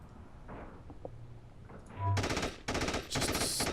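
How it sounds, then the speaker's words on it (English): Bursts of automatic gunfire from shooting in the tactical video game Just Tactics, quiet at first and then loud, dense rattling volleys for the last second and a half, with a short break between bursts. "Now I'm going to shoot at this."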